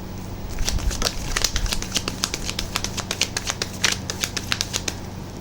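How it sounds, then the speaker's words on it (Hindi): Tarot cards are shuffled in a steady run of crisp, close riffling flicks, evenly spaced and loud, with no talking over them. "लास्ट शफल है"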